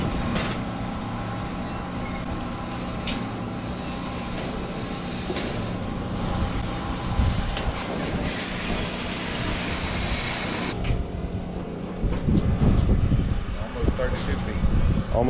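A roll-forming machine pulls a steel roof panel through its small steel wheels, bending it into shape: a steady, loud mechanical grinding drone with squealing metallic whines, continuous and close, while people talk over it.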